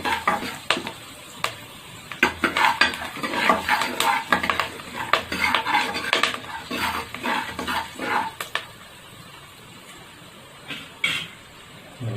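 Spices tempering in a pan for a country chicken curry, with clinks and scrapes of a spoon stirring against metal over a steady low sizzle, busy and close, then thinning out toward the end.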